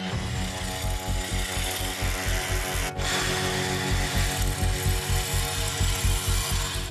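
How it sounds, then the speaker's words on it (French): Rock drill boring holes low in a granite wall inside a narrow tunnel, a steady loud rapid hammering chatter with a dense grinding roar, continuous for the whole stretch with one brief dropout. "On perce 2 trous en bas."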